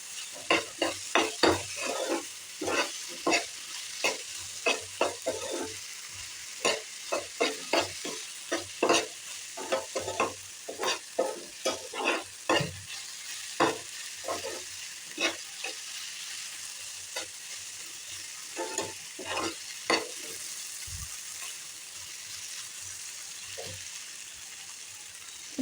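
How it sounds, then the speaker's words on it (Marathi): Spice masala stir-fried in a pan for a Konkani dish, with repeated scraping strokes of a spoon over a steady sizzle, close and fairly quiet, no talking. "हे चांगलं परतून घ्यायचं आहे."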